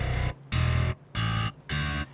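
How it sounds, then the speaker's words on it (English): Heavily distorted bass instrument sounding four sustained, loud notes in a steady rhythm, each held about half a second with short gaps between, played alone with no talking. "firstly I have nocturnal bass, which sounds like this"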